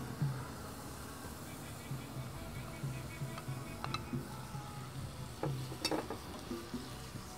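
Fish heads fry in masala in a pan, giving a steady close sizzle and patter throughout with a few sharper clicks and stirring scrapes, for Bengali muri ghonto with Tulaipanji rice.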